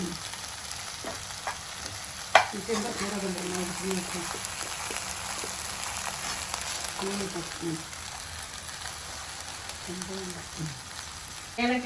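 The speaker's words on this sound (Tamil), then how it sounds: "நெய்யில் வறு தேங்காய் வறுத்து ஏலக்காயும் போட்டு" Grated coconut and cardamom frying in ghee for kozhukattai filling, a continuous soft crackling sizzle with occasional stirring clicks, close and steady, with faint voices murmuring underneath.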